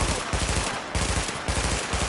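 Dense automatic gunfire from enemies in The Division, a tactical shooter game, roars loud and close in rapid, overlapping bursts filling the whole moment with no speech.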